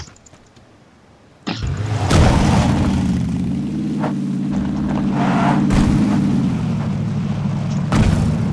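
Motorcycle engine in PUBG (PlayerUnknown's Battlegrounds), kicking in abruptly after a quiet moment, then a steady, loud droning roar that holds on with slight rises in pitch and a thud near the end.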